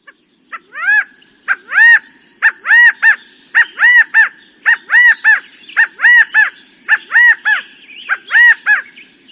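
A recording of California quail calls repeated about a dozen times in a steady rhythm, each a loud, clear, three-part call against a quiet background.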